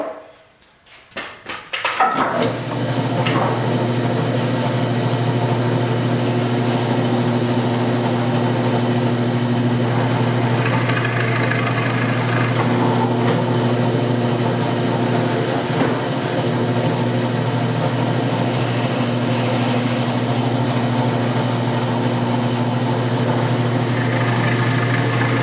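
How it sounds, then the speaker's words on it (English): A power drill starts up and runs with a steady, loud whine while boring pilot holes for a wall-mounted guitar hanger, with the tone holding nearly constant throughout. "let's drill some holes."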